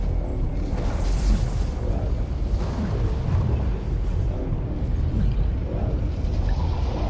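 The Fortnite cube exploding in the video game, a heavy, sustained low rumble and roaring blast that stays loud throughout with a hissy upper wash, no talking.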